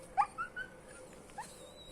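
A chained dog at a rural garden plot whines in a few short, high, rising whimpers near the start and once more later, faint and fairly close against a quiet outdoor background with no talking.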